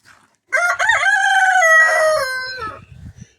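A backyard rooster lets out one loud, close cock-a-doodle-doo lasting about two seconds, stepping up at the start and trailing off, with a few soft clucks and scuffs afterward.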